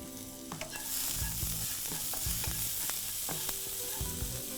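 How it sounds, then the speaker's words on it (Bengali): Finely chopped onion softening with salt in a pan over lowered heat, a steady close sizzle with regular scraping stir strokes roughly every second, no voices. "এটা একটু পেঁয়াজটা নরম করে নেব মনে হয়"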